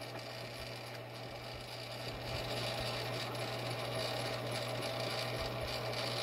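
An antenna rotor motor turns the antenna toward west, giving a steady mechanical hum with a low electrical drone underneath, continuous and moderately quiet throughout.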